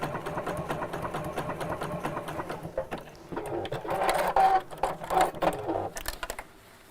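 Sewing machine stitching fabric slowly around a curve for a gift bag, running in short, uneven bursts with pauses between, a close mechanical whir that stops and starts.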